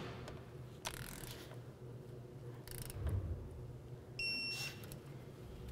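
A wrench tightens the brake caliper flex hose bolt on the front brakes of a 2002-05 Dodge Ram, giving a few short metallic ratcheting bursts over a steady low background hum, with no talking.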